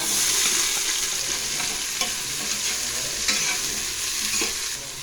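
Onions sizzle and crackle in hot oil, with occasional scrapes and stirring clatters from a utensil, steady and close, no voices.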